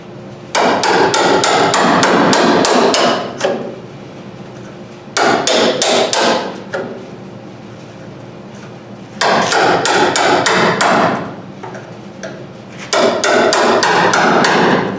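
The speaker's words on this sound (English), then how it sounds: "Just hammer that back down and go at it a little bit more." Rapid hammer blows ring on MG Midget car body metal in four long bursts, loud and close, separated by short pauses.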